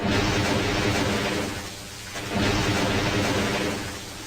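Thunder from a double storm gag in the online game ToonTown Rewritten: a loud, sustained roar of crackling, rumbling noise that dips briefly midway, then surges again, with no talk.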